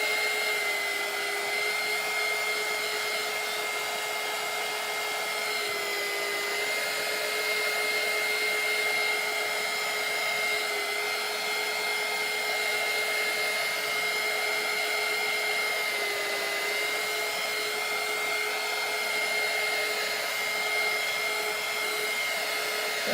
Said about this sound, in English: the next thing is to heat set this, which means I got to dry it out, and we'll go again. Just drying it.